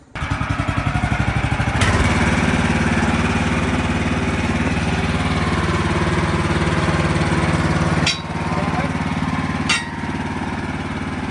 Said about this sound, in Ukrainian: візьму я бензопилу і я його трошки почишу